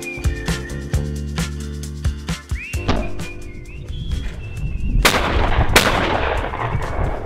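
Repeated shotgun shots ring out in a rapid series, loud and close, some of them doubled, with the sharp cracks thinning toward the end as birds and a whistle-like tone sound faintly behind them.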